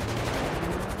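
Soldiers firing guns in GTA 5 at a military base, a dense, loud stream of rapid automatic gunfire with overlapping bursts and no pause.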